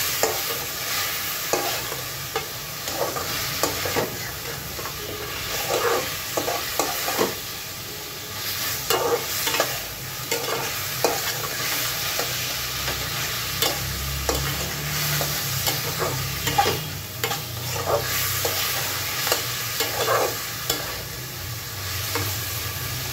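Pigeon meat fries in plenty of oil with onions, a constant sizzle broken by repeated scraping of a spatula stirring the pan, steady and close throughout.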